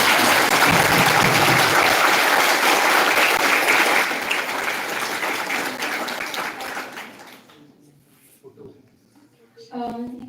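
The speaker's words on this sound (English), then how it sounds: "Dr. Simran Mishra, give a huge round of applause" Loud audience applause fills a hall at a talk show honouring a top NEET PG 2024 rank holder, steady dense clapping for several seconds before fading out, followed by faint voices and a brief renewed burst at the end.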